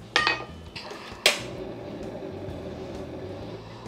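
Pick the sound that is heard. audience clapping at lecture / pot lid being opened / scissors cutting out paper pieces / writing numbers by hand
pot lid being opened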